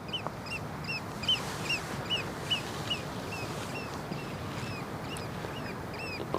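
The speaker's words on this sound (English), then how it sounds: "Loud bird is loud." Repeated loud bird calls ring out near a waterway on the Westerschelde in the Netherlands, a string of short, sharp harmonic cries over a steady low background rumble, with no talking.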